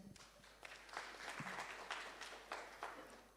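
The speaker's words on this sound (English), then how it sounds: "Let's give a round of applause." Audience applause at a business breakfast meeting in a conference setting, a fairly faint, steady patter of many hands clapping for about three seconds with no talk over it.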